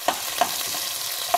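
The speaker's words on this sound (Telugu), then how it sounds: "ఈ క్యాప్సికమ్ వేసి ఫ్రై చేసుకోవాలి" Capsicum frying in a pan, giving a steady sizzle with three sharp spatula scrapes spaced through the short stretch, close and moderately loud with no voices.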